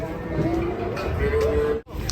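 Large cattle low with a couple of drawn-out moos amid crowd chatter and people talking nearby as they are unloaded from a truck.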